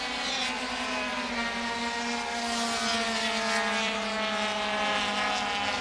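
80cc racing motorcycles at the 1985 Assen races make a continuous high-pitched, buzzing two-stroke drone that holds steady throughout at moderate distance, with no talking.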